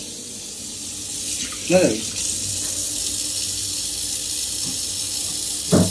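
Tap water runs steadily into a sink while food is washed, a continuous hiss with brief clinks and a short spoken question over it.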